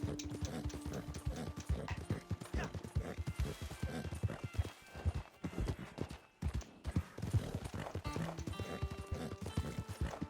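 Horse hooves clip-clop in a steady rhythm as a rider travels in Red Dead Online, the beat continuous and fairly close, with a whinny and occasional quieter voices in the background.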